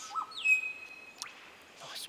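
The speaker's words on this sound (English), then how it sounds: "birds singing up there, the grey thrush" A grey thrush sings outdoors, clear whistled notes and a long sliding tone followed by a couple of quick chirps, moderately near over faint background hiss.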